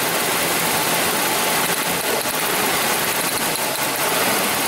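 A Mazda B3000 pickup engine idles in gear with a lean misfire, giving a dense, steady rumble and hiss heard up close, with faint irregular skips breaking its rhythm.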